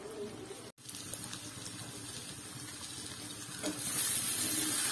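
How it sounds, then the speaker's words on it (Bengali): Spices frying in oil with potatoes and jackfruit seeds give a soft, steady sizzle with occasional stirring scrapes, briefly dropping out, then growing louder and hissier near the end. "বেশ কিছুক্ষণ কষিয়ে যখন এখান থেকে আবার তেল ছেড়ে যাবে তখন আমি আবার একটা মশলা দেব"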